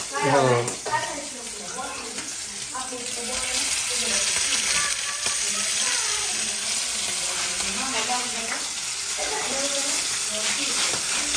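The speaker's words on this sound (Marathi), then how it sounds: "आता फ्रॉन्स फ्राय करून घेते मी" Prawns fry in a hot pan with a steady, loud sizzle and occasional stirring scrapes, while someone talks over the cooking throughout.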